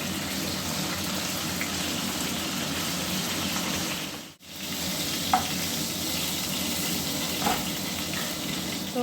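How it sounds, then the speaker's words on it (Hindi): Potatoes shallow frying in a pan give a steady, dense sizzle with a brief dip midway and a couple of small pops, heard close and alone with no talking. "फिर मैं जो आलू थे उसको थोड़ा सेलो फ्राई कर रही थी"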